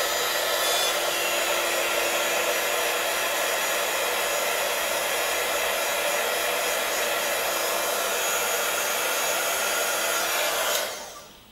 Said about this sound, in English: Now this is going to be noisy, but what I aim to do is put the heat gun under the design